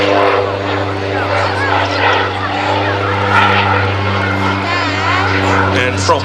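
Ex-West German Luftwaffe Bronco target-towing propeller aircraft flying at an airshow, a steady droning engine hum with shifting propeller tone, heard under a commentator's voice over a loudspeaker.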